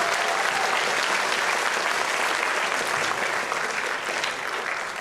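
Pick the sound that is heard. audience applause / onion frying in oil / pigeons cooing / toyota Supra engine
audience applause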